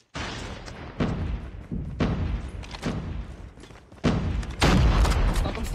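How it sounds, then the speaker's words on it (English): Grenade blasts in the shooter game Dark Void, a series of loud booming explosions with heavy thuds, growing stronger toward the end. "Grenade out!"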